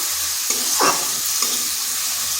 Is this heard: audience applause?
no